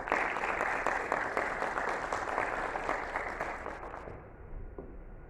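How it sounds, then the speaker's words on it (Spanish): Audience applause at an institutional forum on people with disabilities in Tlaxcala, welcoming a speaker: dense, steady clapping from a crowd in a hall that thins and fades toward the end. "Recibámoslo con un fuerte aplauso."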